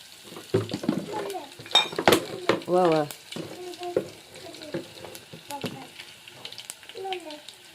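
Crushed garlic hits hot oil already holding cumin, mustard seeds and curry leaves in a village kitchen, sizzling and crackling with stirring and pan clatter while someone talks over it.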